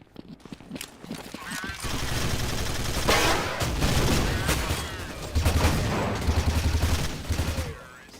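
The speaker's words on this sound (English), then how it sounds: "the next step was the sounds and particles for shooting and explosions" Rapid bursts of gunfire with booming explosions from the game Counter-Strike Classic Offensive, loud and continuous, layered over music and effects for several seconds.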